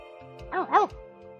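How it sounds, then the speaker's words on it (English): Puppies in the Choices: Stories You Play game give a couple of quick, high yips close by, one right after the other. "trying to teach a pack of puppies some tricks"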